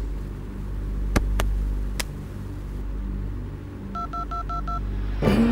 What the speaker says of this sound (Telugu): ఒకసారి ధైర్యం చేసి ఫోన్ అయితే చేసి చూద్దాం